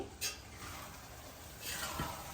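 Natu chikkudukaya (flat bean) masala curry with garam masala being stirred in a pan: a few soft scraping strokes and a faint sizzle, quiet and close, with no talking.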